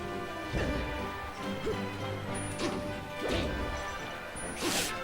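Forward smash hits in a Super Smash Bros match at a competitive tournament: several sharp crashing impacts land at irregular intervals over steady game background noise, with no talk.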